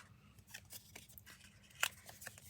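Scissors snip the points off a sheet of paper for a narrow handmade notebook, a few quiet crisp cuts in a row, close and faint with no talking.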